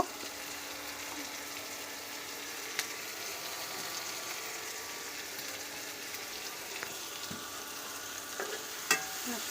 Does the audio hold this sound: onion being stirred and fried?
yes